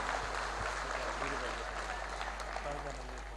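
An audience at a family gathering claps: a brief, faint, even patter of applause with a voice speaking over it.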